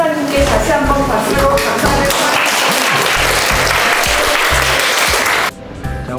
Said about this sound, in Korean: 여기 오늘 이렇게 특강해 주신 강사님께 다시 한번 박수로 감사합니다